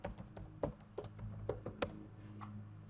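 Rapid keystrokes on a computer keyboard during spreadsheet data entry, a string of close, fairly quiet clicks and taps with irregular rhythm and no talking.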